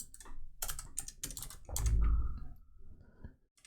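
Someone types on a computer keyboard in a close, quiet room. Several quick bursts of crisp key clicks come in uneven rhythm, with one heavier thump among them.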